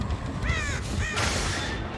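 A crow caws twice in the Dead by Daylight video game, two short harsh calls in quick succession, heard under a dense, loud wash of game ambience.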